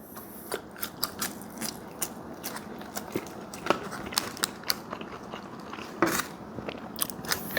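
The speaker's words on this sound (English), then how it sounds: "And try their seasoned fries." Crisp bites and crunchy chewing on seasoned fast-food fries, close and fairly quiet, with sharp crackles repeating irregularly throughout.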